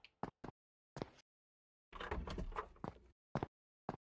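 A door opening in a horror video game, heard as a series of short knocks and clunks followed by a longer scraping, creaking movement, then a few more sharp thumps, all close and isolated.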